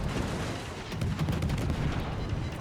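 Harugumo destroyer's ship guns firing in World of Warships, a dense run of rapid booming salvos over a constant low roar, loud and sustained with no talk.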